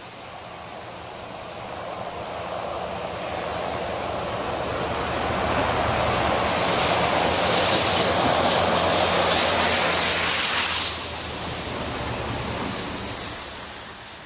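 A rail head treatment train passes through a small station without stopping, approaching as a broad rushing roar that builds to a loud, steady wash. The roar cuts off sharply, then a lower rumble lingers. Nobody speaks.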